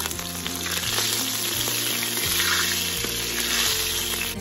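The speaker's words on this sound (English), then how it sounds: "I will wait till the cumin sizzles and I smell the nice aroma." Cumin seeds sizzle and fry in hot oil in a Ninja Foodi multicooker, a steady dense crackling hiss held close and loud throughout, with no talking.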